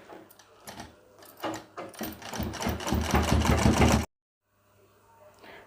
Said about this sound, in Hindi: अब हमें यहाँ पर इस तरह मोड़ के सिलाई लगाना है।